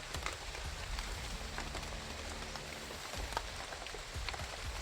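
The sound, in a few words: rain falling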